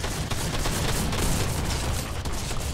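Shotgun fire in Fortnite: a dense, loud barrage of overlapping blasts that continues without pause for the whole few seconds.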